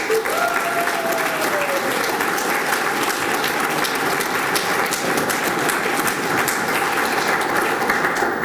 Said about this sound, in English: I want you to give him a round of applause.